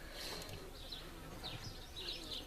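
A crowd of honey bees in an opened top bar hive hums steadily and close, with a few louder buzzes as single bees fly past. The sound is fairly faint and there are no voices.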